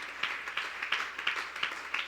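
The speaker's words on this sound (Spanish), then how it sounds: "Démosle un aplauso a nuestro Dios" Church congregation clapping in rhythm, a steady pulse of roughly three claps per second, moderately distant and soft, forming a rhythmic wash of many hands.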